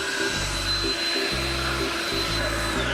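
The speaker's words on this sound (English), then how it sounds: "Got the leaf blower up? My leaf blower." A leaf blower runs outdoors in the morning over wet concrete, a loud, close, continuous whooshing roar with a steady motor whine and small surges in airflow.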